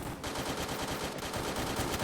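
Rapid automatic gunfire from the Free Fire video game, in a Holi-themed update, rattles in a dense, continuous burst of loud, closely spaced shots.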